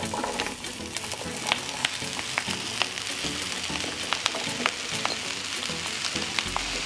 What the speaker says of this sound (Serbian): Na zagrejano ulje spustit ću povrće da se prži.